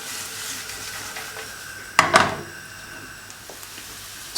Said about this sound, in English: Warm oil in a deep fry pan over medium heat. Add a chopped onion.